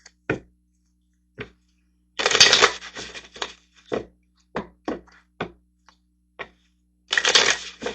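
Tarot cards being handled and drawn, with short shuffling riffles and soft taps and slaps as cards land, in bursts separated by brief quiet gaps, close and fairly loud.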